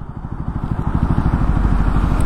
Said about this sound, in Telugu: ఎగ్జాస్ట్ నోట్ అయితే ఇట్లుంది.